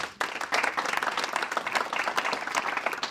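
Audience applause at the 2022 Silver Valley awards ceremony, a dense burst of clapping that starts abruptly and holds steady at close range.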